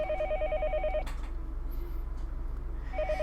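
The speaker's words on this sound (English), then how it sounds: "I searched for her phone in the phone book the school gave me, then dialed a short phone number, the kind unique to remote places" Telephone ringing in the video game Higurashi: a steady two-tone electronic ring repeats in a rapid warble for about a second, drops out, then starts again near the end over a low constant hum.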